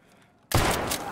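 Gunfire bursts out in Escape from Tarkov's arena mode: after a quiet start, a sudden loud shot opens a dense, sustained crackle of shots that fills the rest of the moment.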